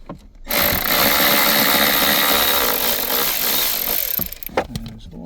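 A power tool on a 2012 Chevy Spark removes two 10 mm nuts during an automatic-transmission shifter cable job. It makes a loud, steady whirring drone for about four seconds, then cuts off into a few clanks and rattles.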